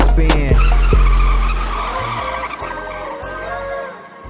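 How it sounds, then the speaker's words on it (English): Car wheels spinning and tires skidding, a loud sustained squeal of rubber with engine roar close by, opening with sharp thumps and fading over about four seconds. "and then I heard wheels spin."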